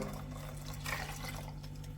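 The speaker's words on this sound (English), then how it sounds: "I'm going to pass some water to this." Water pours into a pot of curry paste for a Goan mackerel curry, a soft steady liquid trickle with a slightly louder splash midway, quiet and close, no talking.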